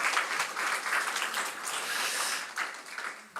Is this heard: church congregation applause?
yes